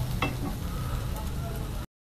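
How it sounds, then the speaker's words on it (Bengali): Soybean stalks frying lightly with salt and turmeric in a kadai give a steady, close sizzle with faint stirring, lasting about two seconds before cutting off. "এখানে হালকা পরিমাণে নুন আর হলুদ দিয়ে ডাটাটা হালকা করে ভেজে নেওয়া হচ্ছে।"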